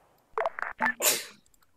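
A single loud, close sneeze breaks through a quiet voice-chat background during an Arma 3 squad training session, starting with a sharp intake and ending in a hissing burst.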